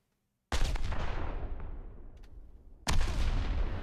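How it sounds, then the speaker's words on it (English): Two loud explosions from an Unreal Engine 5 sound demo, each a sharp blast with a long rumbling decay, the second arriving about two seconds after the first and cutting off the fading tail. "And so I'll push the explosion."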